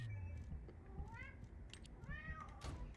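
A domestic cat meows indoors, a few rising and falling cries spread through the moment, fairly close over a low background hum.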